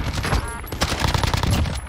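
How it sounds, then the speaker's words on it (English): Gunfire in Call of Duty Warzone (Cold War), a loud, close burst of rapid automatic shots cracking continuously for about two seconds, with no talking. "Oh, I'm getting shot in the back."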